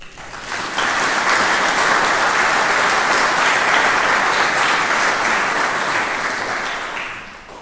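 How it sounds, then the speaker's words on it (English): A congregation applauds the choir at a funeral Mass, steady dense clapping that swells quickly, holds for several seconds and then slowly tapers off, filling the church without any voices over it. "I think we should give them a round of applause"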